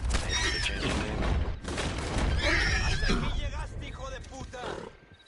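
A horse whinnies in the Red Dead Online Western game amid a loud, busy mix of gunfire-like bursts and ambient game sound, with a streamer's voice talking over much of it.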